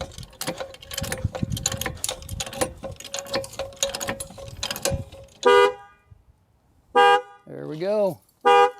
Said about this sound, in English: And the alarm is going off.